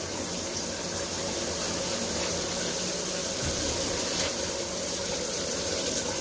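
Steady broadband rush of shower water pouring down like a small waterfall, continuous and close, with no voices over it.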